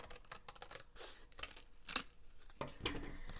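Scissors snip through paper flaps of a file folder journal in several short, crisp cuts with small rustling in between, close and quiet.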